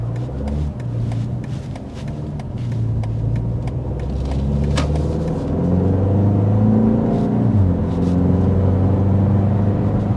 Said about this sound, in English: this rather high output turbocharged 4-cylinder engine